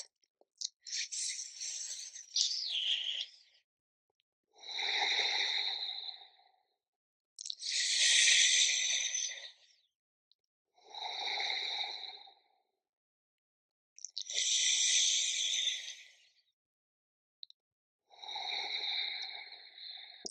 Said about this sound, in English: Give it a try. Shitali breath.